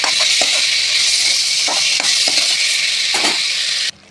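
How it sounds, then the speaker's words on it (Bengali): Bori lentil dumplings are stirred into a sizzling pan of frying food with tomato, giving a loud, steady fry hiss broken by several scraping stirs, ending abruptly. "দিয়ে দেব বড়ি, দিয়ে নাড়াচাড়া করে মিক্স করে নেব"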